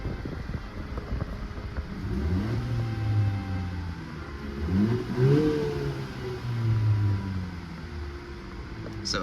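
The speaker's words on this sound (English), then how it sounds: "of course you want to hear what it sounds like when I rev it up" A 2020 Honda Civic Si coupe in sport mode revs from inside the cabin, its engine note rising and falling through a few throttle blips with a moderate, muffled rumble.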